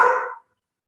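A single short dog bark, close and fairly loud, cutting off after a fraction of a second and followed by silence.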